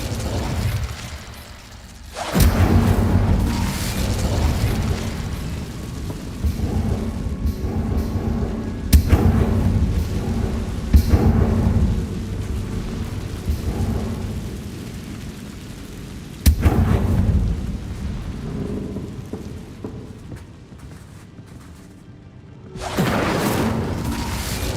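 The Incendio fire spell being cast in the video game Hogwarts Legacy: loud, booming, explosive bursts that roll on in heavy waves and drop away briefly near the end.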